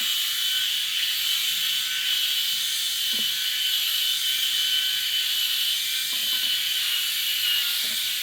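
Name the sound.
Bald Buddy electric head shaver shaving a head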